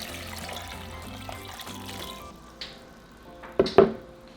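Water is poured into a small pot over deveined chile pods with a faint splashing trickle, then a few louder close splashes and glugs come at the end.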